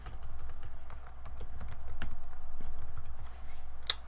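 Rapid typing on a computer keyboard, a close, steady patter of light key clicks with a few sharper taps, over a low background hum.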